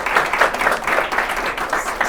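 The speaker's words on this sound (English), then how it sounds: "We'll give them a round of applause." Audience applause at a panel event on expanding access to credit, a steady wash of many hands clapping that rises and falls in small surges across the short stretch, with faint talk underneath.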